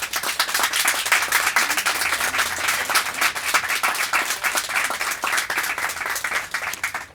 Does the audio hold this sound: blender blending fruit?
no